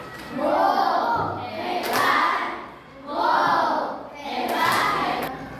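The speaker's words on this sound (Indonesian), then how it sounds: "Mari kita beri tepuk tangan hebat untuk kita semua." In a teacher-training classroom session, a group of children claps in a rhythmic, patterned applause with voices chanting together. The sound comes in four loud, swelling bursts with short dips between them.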